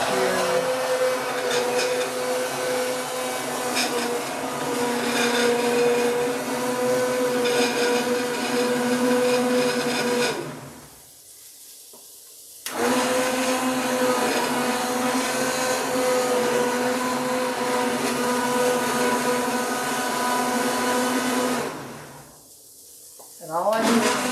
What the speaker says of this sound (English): I've got this wonderful immersion blender that I'm just going to stick right into my pan